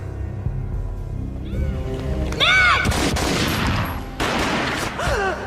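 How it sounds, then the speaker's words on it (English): Gunfire in the video game Max Payne, heavy booming shots and a short burst cutting through dense game noise, alongside high squealing whines, with no voices. "A gunshot boomed and she fell down in slow motion."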